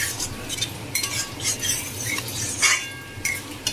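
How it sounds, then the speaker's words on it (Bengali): Vegetarian soybean curry cooked with ghee is stirred in a pan. A utensil scrapes the pan in short, close bursts over a light background sizzle. "নাড়াচাড়া করে"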